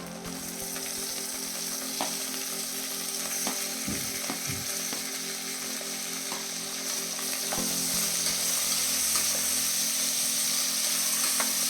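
Tomatoes sautéing in a pan for mushroom biryani give a steady, close sizzle and fry hiss that runs the whole time, with a few brief scrapes and stirs breaking through.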